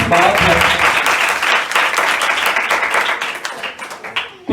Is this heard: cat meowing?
no